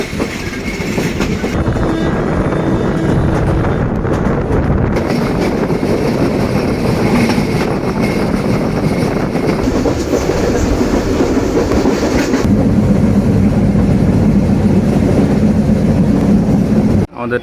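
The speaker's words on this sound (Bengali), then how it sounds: "অলরেডি ট্রেন ছেড়ে দিছে, আমাদের প্ল্যাটফর্ম ত্যাগ করে আমরা গুটি গুটি পায়ে আগাচ্ছি সামনের দিকে।" The Ekta Express rolls on steadily after pulling out of the platform, a loud continuous rumble with rhythmic clickety-clack from the wheels and metallic rattling of the carriages throughout.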